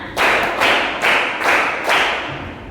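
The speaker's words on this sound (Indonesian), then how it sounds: "Tepuk tangan satu. Tepuk tangan dua. Tepuk tangan tiga." Hands clapping in a timed drill, five sharp, separate claps spaced about half a second apart, close and loud, each with a short ringing tail and no voices over them.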